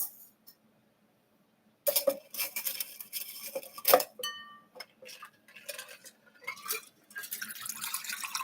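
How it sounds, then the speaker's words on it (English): Peppermint drink being strained and poured into a glass: close clinks of glass and utensils, splashes and trickles of liquid, with short quiet gaps between bursts. "we are going to strain it and pour it into our glass"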